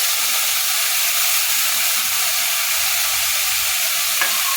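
Drumstick flowers and new potatoes frying in a pan, a dense, steady hiss of sizzling oil running throughout with faint stirring beneath, close and fairly loud with no voices.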